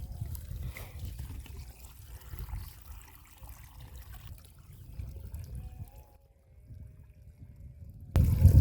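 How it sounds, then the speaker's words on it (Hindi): Rainwater trickles outdoors into a bottle being filled in the wild, a soft uneven dribbling over low rumble that quiets briefly before a sudden louder burst at the end. "चलो कुछ नहीं, पीने लायक साफ़ पानी तो मिला, अपनी बोतल ही भर लेता हूँ।"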